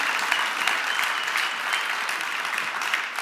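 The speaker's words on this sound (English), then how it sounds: "I think we should all give another big round of applause." A conference audience at re:publica 2015 gives a big round of applause before a fireside chat, a loud, sustained roar of many hands clapping evenly throughout, with no voices over it.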